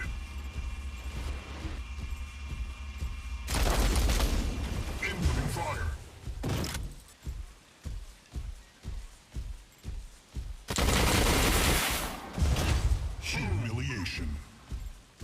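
Rocket Mortar and Javelin Rack weapons firing on a mech in Mech Arena, loud bursts of launches and a rapid string of rhythmic thumping volleys, with heavy explosive blasts at the start and near the end.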